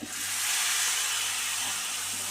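Hot tempering of small onions and vegetable masala poured into a Kerala taro-stem and raw plantain curry, giving a loud, steady steam-like sizzle and hiss that lasts throughout, with no talking.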